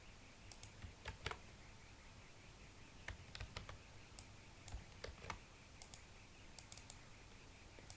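Keys tap on a computer keyboard while a word is typed into MS Word, a run of quiet irregular clicks over a low steady background hum.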